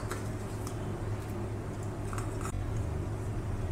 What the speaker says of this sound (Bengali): প্রথমে আমি এটাকে মেখে নেব, এটাকে হাত দিয়েই মাখতে হবে।